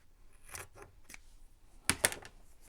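Scissors snip through quilt fabric at close range, giving several quiet, crisp cuts with two sharper, louder snips near the end.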